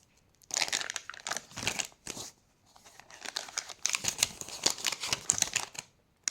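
Crisp crinkling and rustling of paper packets being handled close by, in irregular bursts with brief pauses, no talking.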